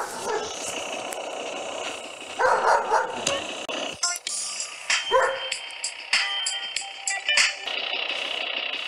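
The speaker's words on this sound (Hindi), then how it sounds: "यहाँ पर डॉगी भी है क्या?" A dog barks repeatedly in GTA San Andreas at the Verdant Meadows area: short, sharp barks scattered over steady in-game ambience, fairly close, with a voice at times.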